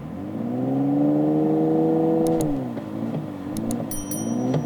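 A GWM Ora 07 Long Range electric car accelerates, giving a smooth, layered synthetic engine hum that rises and then dips in pitch, close and clear, with a few faint clicks.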